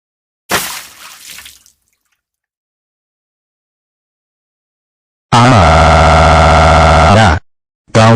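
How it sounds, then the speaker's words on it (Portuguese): In the Talking Tom mobile game, water is thrown on the cartoon cat, making a short splashy burst. After a pause comes a loud, buzzy, tonal game sound, then a brief final blip. "Eu vou jogar água no Talking Tom."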